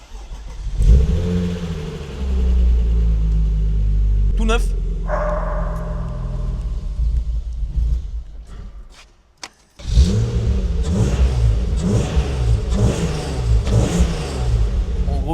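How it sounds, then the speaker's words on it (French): A BMW E36, a written-off car being prepared for drifting, has its engine cold-started and revved loudly up close with a modified intake. The engine cuts out briefly, restarts and keeps revving, with short speech over it. "On va filmer le premier démarrage à froid pour que vous voyez que c'est une vraie bagnole"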